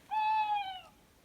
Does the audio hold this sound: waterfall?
no